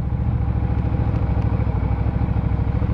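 A Benda Chinchilla 450 V-twin cruiser motorcycle engine idles close and loud, a deep, even, pulsing throb with a steady lumpy rhythm throughout.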